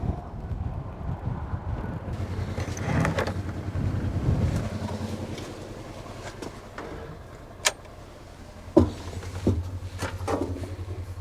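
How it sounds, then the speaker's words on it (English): Strong outdoor wind buffets the microphone in a continuous low rumble at a site where three-phase power is run underground, with a few sharp knocks and clicks near the end and no talk. "The wind's whipping pretty good out here"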